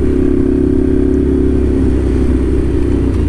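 A Ducati Scrambler motorcycle with an aftermarket exhaust, baffle removed, rumbles loudly with a deep, throaty exhaust, revving steadily and close by throughout.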